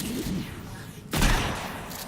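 Gunfire in the video game Sons of the Forest: a loud, dense burst of shots and noise, fading, then a sharp renewed blast of firing after a short dip.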